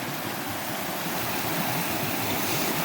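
Agency Creek rushes close by at a campsite near Lemhi Pass, a steady, even roar of flowing water with no other sounds.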